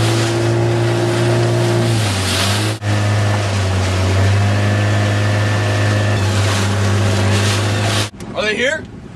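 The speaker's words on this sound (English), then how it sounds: "You hear that? Is that a... Boat!" A motorboat engine drones loud and steady with a constant low hum, then cuts off abruptly near the end, leaving a brief splashing noise.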